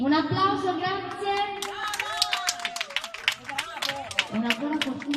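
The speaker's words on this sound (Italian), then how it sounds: "Un applauso, grazie." Claps spread out and build into a brief round of applause at a party event, heard under a host speaking over the gathering.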